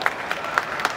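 An audience at a stage show claps for director Liang: a brief burst of close, crisp claps at an irregular beat, heard over a low murmur of crowd noise.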